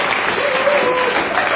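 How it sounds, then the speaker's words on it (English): Audience applause: dense, loud clapping through the whole short burst, with a voice faintly present underneath. "some of you are clapping and getting excited"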